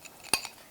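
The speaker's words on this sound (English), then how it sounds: "Give that a stir." A spoon clinks sharply against a small dish while stirring a key lime mixture, two quick bright taps with a faint scrape between them, close and quiet, with no talking.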